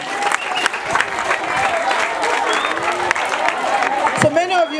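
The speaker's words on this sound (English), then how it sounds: "So clap for yourself if you're a girl." Schoolgirls at a menstrual hygiene kit donation event clap for themselves, a dense, steady patter of many hands with cheering voices and crowd chatter mixed in throughout.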